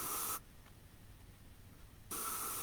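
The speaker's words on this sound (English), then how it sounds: "Always check by spraying your paint." An Iwata airbrush sprays water-based paint onto an RC car body shell, a steady close hiss that breaks off into near silence for over a second before the spraying resumes.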